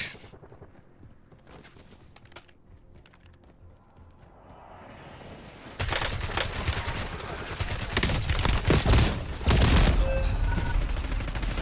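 Rapid gunfire in the Warzone video game: a quieter stretch of scattered shots gives way to loud, dense bursts of automatic fire that continue without pause through the rest of the clip.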